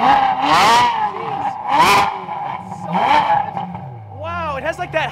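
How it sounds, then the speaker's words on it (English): A Chevrolet C8 Corvette fitted with a Fabspeed exhaust revs hard three times in quick succession, each rising to a loud, high-pitched wail before dropping back, then settles to a lower idle; people talk and exclaim around it. "Rev it up, Faith."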